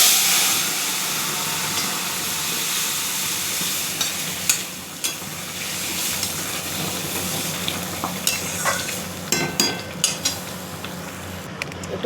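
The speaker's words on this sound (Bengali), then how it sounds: "ডালে ফোড়ন দিচ্ছি।" Hot oil tempering with chili and tomato hisses and crackles steadily as it is added to moong dal cooked with bottle gourd, with scattered metal spoon scrapes and clinks against the pot, close and fairly loud.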